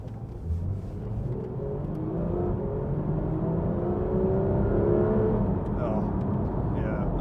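A Porsche 911 GT3 RS driven on an open road in its normal setting, the engine rising in a steady climbing drone over road rumble, heard from inside the car with people talking over it.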